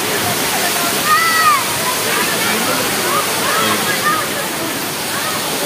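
Daranak Falls roars as a steady, loud wash of falling water, with people talking over it in the foreground.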